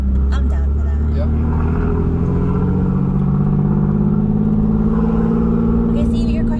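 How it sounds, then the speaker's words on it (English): A car engine idling and revving, a deep steady rumble with rising and falling tone close by, while people talk over it. "your car has like a nice sound to it"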